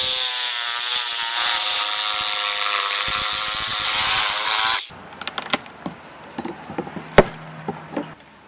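A power saw cuts steadily down through a rough-cut 2x4 wood stud during a window replacement, a loud continuous whine for about five seconds, then stops and gives way to scattered knocks and rustling handling noises.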